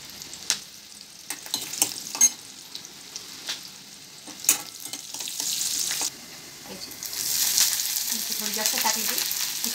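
Cumin seeds and garlic sizzling in hot oil in a pan for Maharashtrian pitla, a steady hiss broken by sharp crackles and spatters of stirring, growing louder and denser toward the end.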